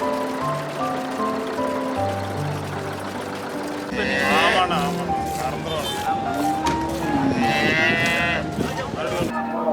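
Cattle at a busy weekly livestock market give drawn-out moos and lowing calls over constant crowd chatter and movement, with several animals calling close by.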